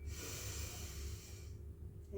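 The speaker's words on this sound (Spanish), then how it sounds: "respiramos por la nariz y exhalamos por boca 3 veces" Slow nasal inhale followed by a mouth exhale during a pranayama abdominal breathing exercise, a soft, close, airy breath sound heard alone and fading toward the end.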